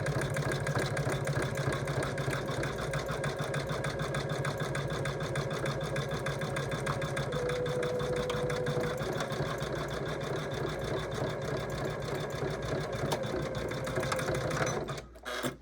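Embroidery machine stitching a zigzag to join appliqué pieces for a table runner, a steady rapid mechanical whir that holds on without a break and cuts off at the very end.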